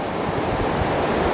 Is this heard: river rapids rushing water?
yes